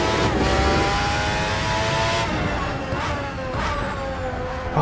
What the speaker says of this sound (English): Oh, how good does this car sound? Screaming V12 engine.